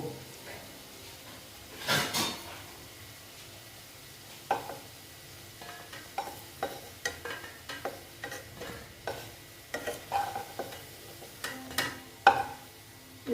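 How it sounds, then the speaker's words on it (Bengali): Egg fritters frying in a pan give off a soft background sizzle, broken by repeated close scraping and clinking of a utensil against the pan in irregular bursts. "আমার এই বড়াগুলো প্রায় হয়ে গেছে এইবার আমি বড়াগুলো সব তুলে নেব"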